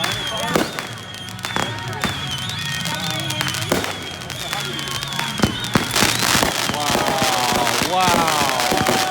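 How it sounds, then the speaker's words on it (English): Backyard July 4th fireworks in Fort Myers, Florida burst in a steady series of sharp bangs and crackles, some loud and near, with whistling rising streaks toward the end and people talking underneath. "Watch all these pretty fireworks."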